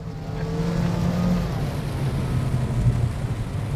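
A Honda City hatchback RS engine hums and strains continuously at moderate volume, a steady drone with a slight rise as it climbs a wet mountain road on Gunung Raya, Langkawi.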